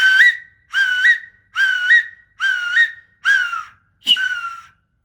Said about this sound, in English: or this hawk whistle.